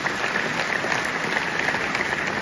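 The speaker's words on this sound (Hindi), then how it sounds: "उन सभी के लिए एक बार जोरदार ताली बजाएं आप" Applause from schoolchildren at a school motivational event, a dense, steady patter of many hands clapping at a fairly loud, even level with no voices over it.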